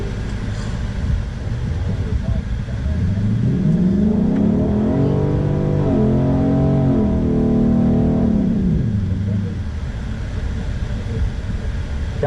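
Cars race down a drag strip at a raceway, an engine note swelling and rising through the gears as a car passes close, then fading, over steady track and crowd background.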